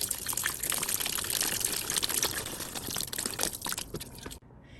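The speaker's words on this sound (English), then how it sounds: "Next, we're going to add 4 cups of beef bone broth." Beef bone broth pours in a steady, splashing stream into an Instant Pot, the liquid sound continuous and close for about four seconds before cutting off abruptly.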